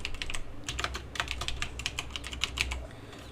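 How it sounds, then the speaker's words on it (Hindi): Someone types on a computer keyboard while entering text in CorelDRAW, producing quick, close clicks of keys in an uneven rhythm throughout, with no talking. "मैं यहाँ कर्सर रख के टाइप करता हूँ कॉरल ड्रॉ और मैं दूसरा टाइप करता हूँ।"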